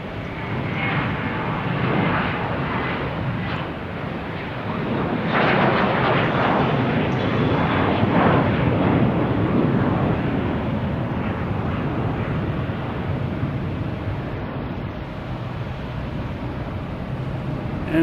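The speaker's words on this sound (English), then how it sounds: "There's American Airlines, A321." Jet engine roar from an American Airlines Airbus A321 at Boston Logan, a steady broadband rumble that swells around the middle and holds loud to the end, with no voices.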